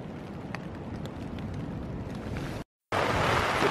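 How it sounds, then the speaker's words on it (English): Strong wind on the Appalachian Trail in Georgia roars steadily, broken by a brief gap of silence before returning louder and harsher. "A ton of wind."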